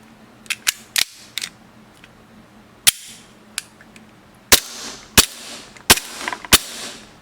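A used gas blowback BB pistol fires four shots, each a sharp crack with a metallic slide snap, mixed in with lighter clicks of handling. The shots come at irregular spacing, close and loud.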